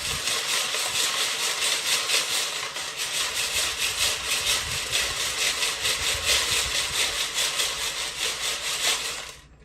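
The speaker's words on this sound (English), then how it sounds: "Lego's quite loud." Used LEGO bricks pouring and rattling through stacked sorting trays, making a loud, dense, continuous clattering rush with a rhythmic shaking pulse that holds steady and then cuts off at the end.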